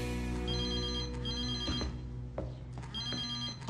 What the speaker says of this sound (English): I hear my phone ring, and I rush to the phone.